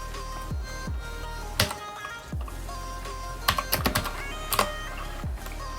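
Keys tapping on a computer keyboard as a search term is typed, scattered crisp clicks in small irregular clusters against a faint steady background hum, close and fairly quiet.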